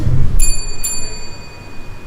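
A timekeeping bell at a Guru Poornima celebration evening debate is struck twice in quick succession, each a bright metallic ding with a lingering ring over a soft room murmur.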